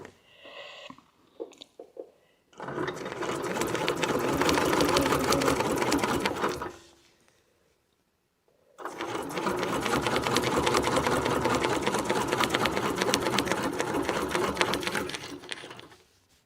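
Embroidery sewing machine stitching a wreath design with metallic thread, two long bursts of rapid mechanical rattling separated by a short pause, close and loud.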